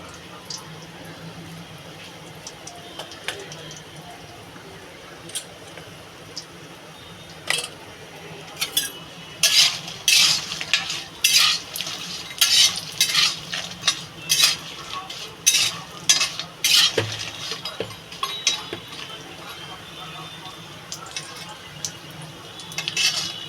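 Turmeric-rubbed rohu fish fries in oil with a low steady sizzle, joined midway by a run of sharp metallic clinks and scrapes of a spatula against the pan, fairly close and without talk.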